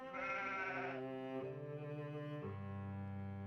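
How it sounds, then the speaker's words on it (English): Two cold goats bleat in close succession, their wavering, nasal calls sustained and fairly loud, one long cry giving way to another with no talk over them. "There's 2 goats, and they're cold."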